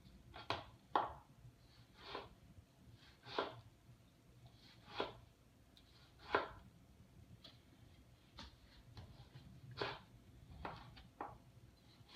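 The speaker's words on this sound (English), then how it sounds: "I'm gonna start by dicing the tomato." A knife dices a tomato on a cutting board for huevos a la mexicana, producing faint, sparse taps spaced irregularly, each a short dull knock against quiet room tone.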